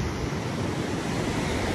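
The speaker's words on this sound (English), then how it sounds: "Today the waves are like two feet." Small ocean waves of about two feet washing onto a Maui beach, a brief continuous hiss of surf with wind, steady and moderately loud.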